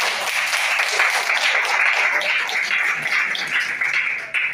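Audience at a company pre-launch seminar breaks into continuous applause and cheering, a dense wash of clapping holding steady for several seconds before easing off.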